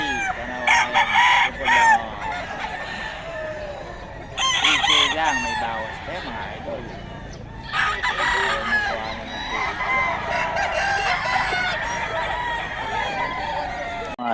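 Boston White gamefowl roosters at Bocaue market in the Philippines crow loudly in several bursts, overlapping clucks and more distant crows filling the gaps over busy market noise.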